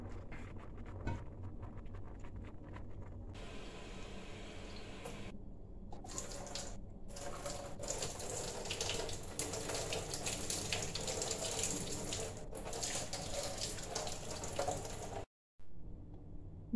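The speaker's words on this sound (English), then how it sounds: "And we will drain the water." Water from a pot of cooked pasta pours steadily into a sink, a continuous rushing gush that runs close and loud for about fifteen seconds before stopping abruptly.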